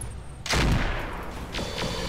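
Mech turrets firing in the video game RogueTech BattleTech, a sudden loud booming volley that sets off a sustained rumble, with a couple of further shots trailing afterward.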